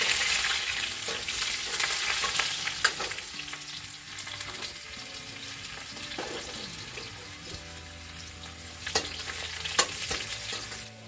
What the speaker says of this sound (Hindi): थोड़ा सा डालूंगी प्याज, एक छोटा सा प्याज थोड़ा सा चला लूंगी।